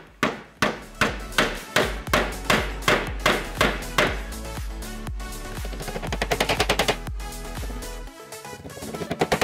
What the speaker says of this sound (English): Once drilled, it was time to hammer in the inserts.